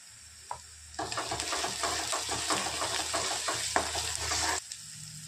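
Green chili paste frying in a pan for a chickpea dish made with crushed peanuts, a loud, steady, close sizzle that bursts in after a brief pause and then cuts off, with stirring scrapes throughout and no voices.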